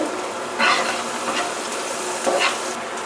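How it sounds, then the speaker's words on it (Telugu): Chopped red onions fry in a pan, a steady hiss and sizzle with two brief scraping bursts as they are stirred, no voices present. "ఆనియన్స్ అయితే ఎర్రగడ్డ కప్పు అయితే వేసుకుందాం వేసుకొని అయితే కాసేపు మగ్గరించుకుందాం"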